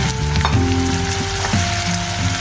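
Apples cooking in butter in a pan give off a soft, steady sizzle beneath a humming background tone, with no talking.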